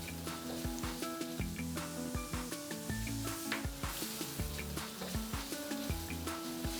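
A fine ground spice paste sautés in a pan, making a steady, fairly loud sizzle that runs throughout under a layer of rhythmic tonal sound.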